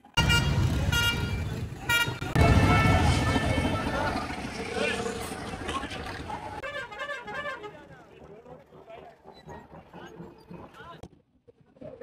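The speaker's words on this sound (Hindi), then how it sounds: "ट्रैफिक का बहुत बुरा हाल है।" Congested city street traffic with repeated car horn honks and engine noise, loud and close at first, then thinning out, with people talking nearby.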